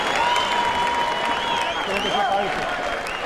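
Boxing arena crowd at the Giovanni Lorenzo vs Raul Marquez fight applauds in a steady dense wash, loud and continuous, with a commentator's voice talking over it.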